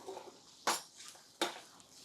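Two sharp metallic scrapes of a spoon against a pot ring out while coconut rice is mixed up and down, with faint softer clinks in between.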